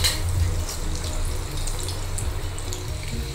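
Rice-flour-coated cauliflower pieces deep frying in hot oil in a kadai, giving a steady, continuous sizzle and bubbling hiss at moderate closeness, with no talk over it.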